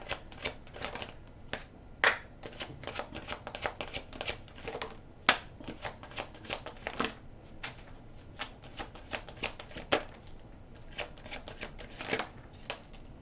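Tarot cards being shuffled in rapid, irregular riffling bursts with sharp slaps, close and fairly quiet, running continuously with no talk.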